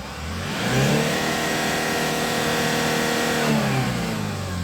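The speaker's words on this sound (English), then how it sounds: "Let's try to accelerate and see the RPMs." A 2005 Hyundai Porter diesel freezer truck with a manual gearbox is revved while parked. Its engine rises from idle to a sustained high rev, holds there and then drops back, loud and close with no talk over it.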